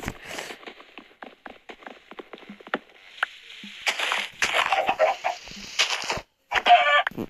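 Minecraft chickens cluck in quick, choppy bursts, with a few clicks and scratchy noises mixed in, close and moderately loud.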